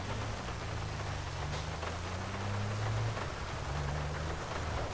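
Steady hiss of heavy rain falling on streets in the driving game GTA V, a constant wash of noise with a low engine drone from a damaged car underneath.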